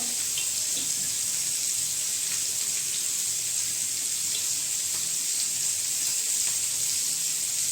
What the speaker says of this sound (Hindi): प्याज को हमें अच्छे से कलर चेंज होने तक फ्राई करना है।